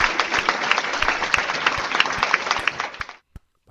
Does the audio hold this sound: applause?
yes